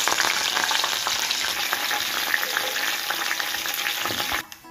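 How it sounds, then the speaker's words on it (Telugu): Garlic and curry leaves fry in hot oil as a tempering for mixed leafy greens pulusu, giving a loud, close, continuous sizzle with light stirring that cuts off sharply at the end. "తాలింపు వేగిపోయింది కదా,"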